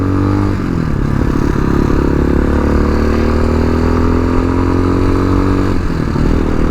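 A tuned TBR7 Chinese dual sport motorcycle being ridden, its engine droning loud and steady up close, with the pitch climbing gradually as it pulls and a brief dip near the end.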